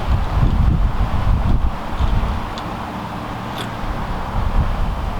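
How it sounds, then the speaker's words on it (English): Wind gusts across an open golf course, a loud, steady rumble of blustery buffeting against the microphone with faint rustling underneath. "And the wind switches. Feel it back in the face now."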